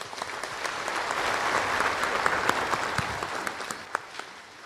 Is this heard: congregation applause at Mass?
yes